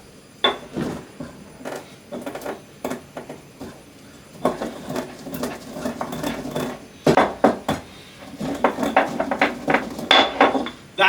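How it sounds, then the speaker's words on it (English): Black pepper, dried thyme and garlic powder being ground by hand for homemade sausage seasoning, a run of irregular knocking and scraping strikes close up, bursts separated by brief pauses, no talking. "Grind that all down and then add that to the salt and sugar as normal."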